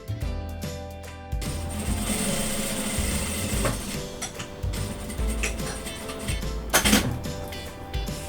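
A sewing machine stitches a double-sided pleated cloth mask, a busy mechanical whirring and ticking that starts and stops in short bursts, close and fairly loud.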